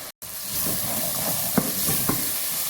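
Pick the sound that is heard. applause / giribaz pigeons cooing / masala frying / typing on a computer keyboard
masala frying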